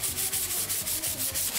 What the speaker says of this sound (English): that took some sanding, but I didn't get it all out because basically I just haven't got the right size grit